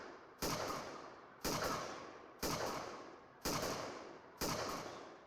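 Gunfire strikes a headquarters in a game jam video game: five loud, evenly spaced shots, each a sharp crack trailing off into a fading rumble.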